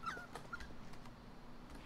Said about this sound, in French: Non, petit chien.